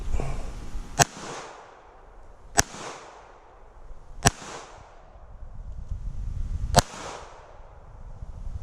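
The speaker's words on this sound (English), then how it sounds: "let's shoot it one-handed, about 7 yards." A Smith & Wesson Bodyguard 380 pistol fired one-handed at about 7 yards: four loud, sharp shots spaced a second or two apart, each with a short echoing tail, and no talking between them.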